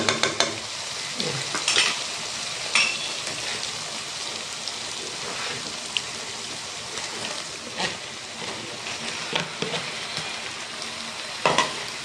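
Macaroni is tipped into a sizzling pan of chicken and vegetables and stirred, a continuous crackling fry with scattered spoon scrapes and knocks close by.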